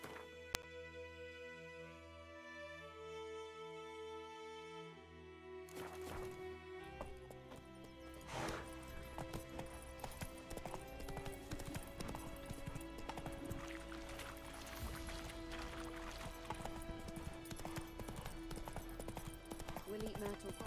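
Galloping horse hooves in The Witcher 3, a steady clip-clop rhythm running under game music and ambient sound, with a brief spoken line early on.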